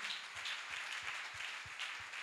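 Congregation clapping in a church service, rhythmic unison claps on a steady beat under a dense wash of cheering and crowd noise, fairly faint and distant.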